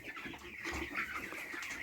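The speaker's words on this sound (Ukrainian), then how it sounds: "Зараз ловимо курчат" Broiler chicks clucking and chirping close by in a busy coop, a steady jumble of short bird calls with no pauses.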